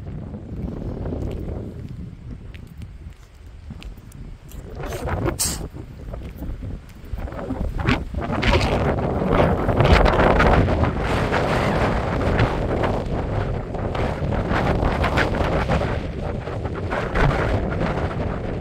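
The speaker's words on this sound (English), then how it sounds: "really windy here." Strong wind buffets the microphone in heavy, continuous gusts at a high, open viewpoint in Lassen Volcanic Park, growing louder and rougher partway through.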